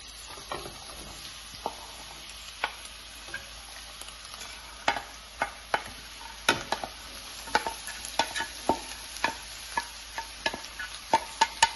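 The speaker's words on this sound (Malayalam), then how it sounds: "ചൂടായ പാത്രത്തിലേക്ക് നമുക്ക് ഇതെല്ലാം കൂടെ ഒന്ന് ചെറുതായിട്ട് വഴറ്റാനായിട്ട് ചേർത്ത് കൊടുക്കാം" Chicken stew ingredients sautéing in a hot pan in a Kerala-style kitchen, a steady low sizzle broken by repeated clacks and scrapes of stirring that grow more frequent toward the end, close and alone without talk.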